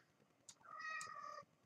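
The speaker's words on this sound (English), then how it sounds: "you'll hear my cat in the background" A house cat meows faintly in the background, one short chirp followed by a longer drawn-out meow, quiet and alone with no talk over it.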